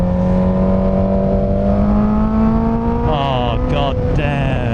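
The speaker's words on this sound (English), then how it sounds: "Oh, the screaming engine" A motorcycle engine screams through a run of curves, a loud, close, sustained whine that rises steadily in pitch, then shifts through gear changes and revs near the end with no voice over it.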